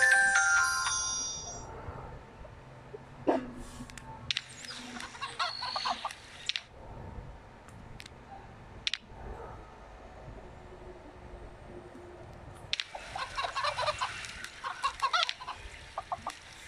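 A golden chicken in the farming game FarmVille 3 clucks in short bursts over a quiet game soundtrack, with clucking clusters near the middle and again toward the end.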